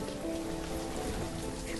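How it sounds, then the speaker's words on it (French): Rain falls steadily in the city-building video game Banished, a constant dense hiss of drops with a low hum beneath and no talk. "il arrête pas de pleuvoir dans ce pays là"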